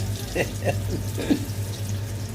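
Six pieces of cold chicken fry in a screaming-hot wok of oil for Thai-style wings, giving a steady close bubbling sizzle with a few louder pops throughout.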